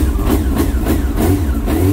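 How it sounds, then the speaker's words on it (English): A heavy engine rumbles nearby, its low throb pulsing in a steady rhythm as though idling with slight revs. "Some people wanted to hear the engine revving a little bit."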